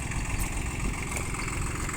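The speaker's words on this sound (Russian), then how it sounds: "Достаточно крупный, мощный, полноприводный тракторок" A Yanmar AF24 compact four-wheel-drive tractor fitted with a rotary tiller idles steadily nearby, a continuous low rumble with a mechanical hum and no voices.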